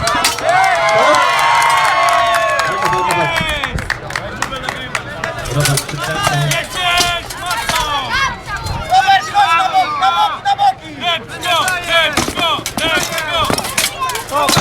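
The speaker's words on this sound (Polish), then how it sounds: "Wielkie brawa proszę państwa, naprawdę Widzieliśmy bardzo duże zaangażowanie i wygrywa." A crowd at an outdoor medieval-style duel event cheers and shouts with bursts of applause, lively and close, while an announcer talks over the noise.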